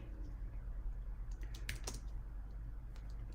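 Typing on a computer keyboard during a live stream, a few faint scattered key clicks over a steady low hum, quiet and close.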